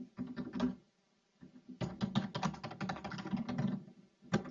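Typing on a computer keyboard, rapid clattering keystrokes in two bursts separated by a short pause, fairly close and moderately loud with no talking.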